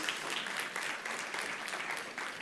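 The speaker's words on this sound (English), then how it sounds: "Give him a round of applause" Audience applause for a panelist introduced at a conference panel on food access in Georgia, a steady crowd of hands clapping with a lively, slightly pulsing texture, moderately loud and continuous, no talking.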